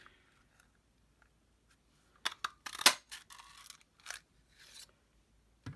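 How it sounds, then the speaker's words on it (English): A handheld craft punch cuts shapes from scraps of card, making a handful of sharp crunchy clicks at uneven intervals in a quiet room. "I might just punch out some Blackberry Bliss ones from scrappy cards"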